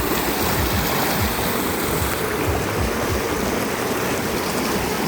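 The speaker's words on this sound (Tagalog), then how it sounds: "Kusog ang tubig" A strong river current rushing near a bridge in the Philippine countryside, a dense, steady roar of churning water, loud and close with no voices over it.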